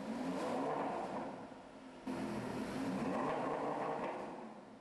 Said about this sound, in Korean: 시동을 거는 순간 슈퍼카가 토해내는 우렁찬 배기음.